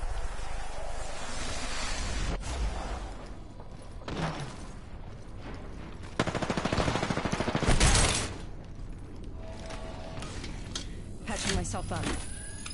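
Gunfire in the Apex Legends battle royale shooter, with bursts of shots and a heavier volley near the middle, mixed with game effects and voices talking throughout.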